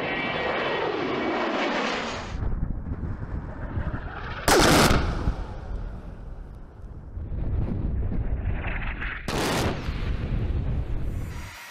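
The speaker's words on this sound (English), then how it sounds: "The centerpiece of this aircraft's mobile arsenal is its 30-millimeter GAU-8A Avenger rotary cannon." A GAU-8A Avenger 30 mm rotary cannon fires from an A-10 Thunderbolt in two loud, brief ripping bursts. A roaring jet engine runs underneath the bursts and continues between them.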